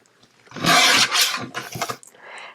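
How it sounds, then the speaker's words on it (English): Paper is trimmed from a recycled Christmas card, producing a few close, rasping scrapes and cutting bursts that fade near the end. "I'm going to trim it right along the bottom there"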